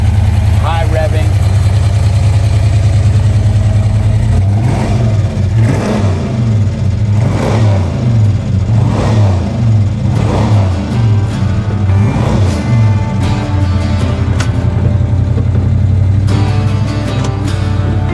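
A 1963 Plymouth Belvedere with a 426 Max Wedge engine, solid lifter camshaft and big carburetors rumbles loudly close by, with a series of rhythmic revs through the middle of a continuous throaty idle.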